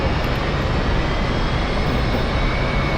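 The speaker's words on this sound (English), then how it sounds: "it's loud on the aircraft carrier deck" Jet aircraft engines roar on an aircraft carrier deck in the DCS flight simulator game, a steady loud broadband wash that holds constant throughout with no talking.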